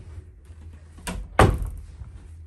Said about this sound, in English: I have to slide in this door here because it doesn't quite open all the way.